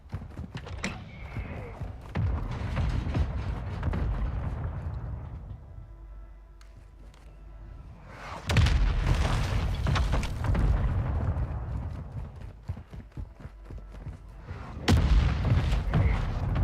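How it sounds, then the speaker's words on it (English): Mortar strike explosions in a video game: repeated heavy booms and rumbling blasts, with loud impacts spread across the stretch and a strong detonation near the middle and another near the end, over constant low rumble. "Requesting fire mission. Target marked. Solid copy. Mortar strike on the way."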